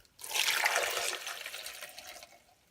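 About two cups of water pour into a Vitamix blender jar holding bananas, a bright rushing splash that starts abruptly, holds for about two seconds, then tapers off quietly.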